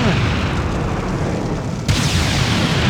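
Cannon fire in the video game Serious Sam HD, heavy booming blasts rumbling continuously and loud, with another sharp burst near the end.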